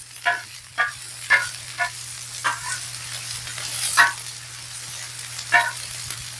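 Onions sizzle on a Blackstone griddle with a steady hiss, broken by repeated scraping and stirring strokes of a spatula at an irregular rhythm, close and fairly loud with no talking.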